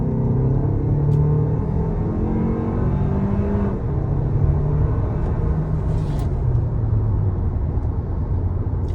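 A 2026 Toyota Grand Highlander pulls out into traffic, its engine a steady low rumble heard from inside the cabin as it accelerates, with no talking.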